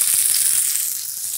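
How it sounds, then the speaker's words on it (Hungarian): Roasted onions hitting hot oil in a pan over a fire, a brief bright sizzle with a few crackling pops and no voices. "Jöhetnek a sült hagymák."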